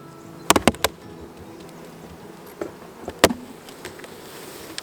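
Beehive top prying free of its propolis seal, a few sharp cracking pops and snaps with a quiet pause between, close and dry over faint background.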